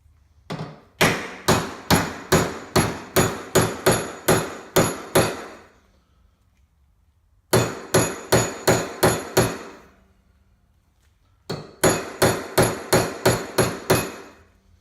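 A bolt end on an axle being hammered to round it over: three separate runs of rapid, evenly spaced metal hammer blows, loud and close, with short quiet pauses between runs.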